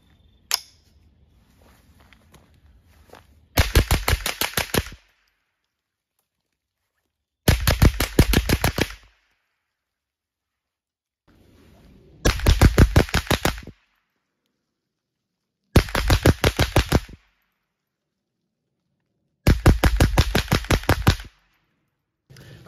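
A rifle fires a nine-round drill: close, loud bursts of rapid shots, several quick cracks per burst, repeated about five times with silent gaps in between.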